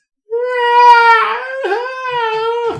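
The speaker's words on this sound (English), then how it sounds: "That's just a panther. The one that sounds like a child crying?" Panther scream resembling a child crying: one loud, drawn-out wailing cry with a rising, wavering pitch that breaks and dips midway before carrying on, heard alone.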